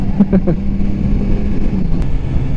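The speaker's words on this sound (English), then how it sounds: "when you're at 6 RPM, it gets pretty darn loud" A 2021 Kawasaki Z900 RS Cafe inline-four motorcycle engine drones steadily at high revs, a loud continuous buzzing roar with no break.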